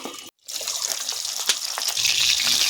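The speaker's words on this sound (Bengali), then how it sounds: "তেল গরম হয়ে গেছে, এবার মাছ দেব।" Fish hissing and sputtering in hot oil inside a covered pan, a steady dense sizzle that swells louder toward the end after a brief silent gap near the start.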